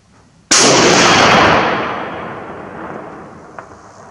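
A single loud rifle shot from a Finnish M39/43 sniper rifle cracks sharply nearby, and its long echoing tail fades away over several seconds.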